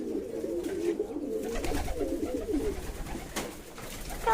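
Fancy pigeons, including shirtin and check shirtin birds, bathing in a new small pool, cooing nearby with soft splashing and fluttering throughout, no voices.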